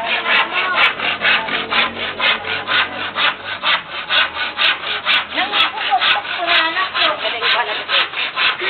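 A hand saw rasps steadily back and forth through wood in quick, even strokes, close up and continuous, with faint background voices.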